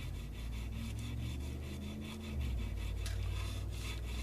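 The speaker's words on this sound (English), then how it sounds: "fix those with some little bit of hand sanding" Steady back-and-forth rasping strokes of abrasive on a Benchmade knife blade with a broken tip, hand sanding, close and rhythmic, continuing without voices.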